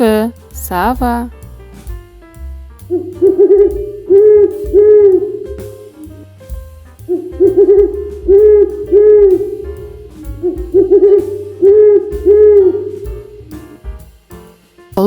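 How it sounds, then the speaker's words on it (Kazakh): An eagle owl among wild birds gives three bouts of low, repeated hoots spaced a few seconds apart, fairly close and clear, after a brief voice at the start. "Үкі, сава."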